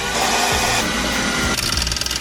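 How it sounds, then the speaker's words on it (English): A power drill with a 1/8 inch bit boring holes near the shifter of a 1997–2004 Chevy Corvette, a continuous close whirring grind that ends in a few stuttering bursts. "with an 1/8 inch drill bit, we're gonna drill these 2 holes here and these 2 holes here"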